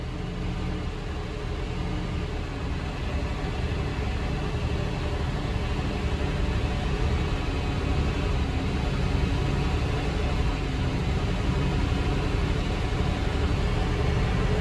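A 1988 Chevy R30 engine idles after a cold start following a year of sitting, a steady, loud, unbroken rumble with no talking.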